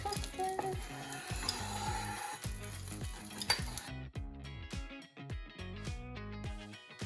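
Quesadillas cooking in a pan give a soft, continuous sizzle that sits under prominent music and drops back partway through.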